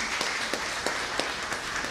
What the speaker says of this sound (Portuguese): a qual peço uma grande salva de palmas para ela também